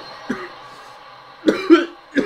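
A few harsh coughs close up: a single cough, then a pause, then a quick cluster of two or three more.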